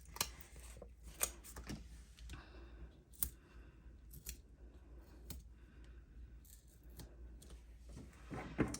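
Scissors snipping paper for a heat embossing craft project, a series of sharp, separate cuts at irregular intervals over a low steady background hum, close and fairly quiet.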